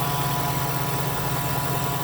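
The 2.5-liter four-cylinder gasoline hybrid engine of a 2022 Lincoln Corsair idling, a steady, loud, even hum with low mechanical vibration and no variation in pitch.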